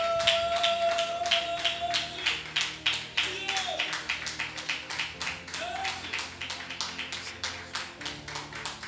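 A church congregation claps in steady rhythmic unison, loud and sustained, joined by a singing or calling voice and music during worship.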